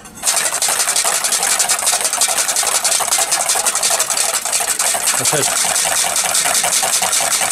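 A steady, loud mechanical whir runs throughout, like an electric mixer beating egg white continuously at high speed.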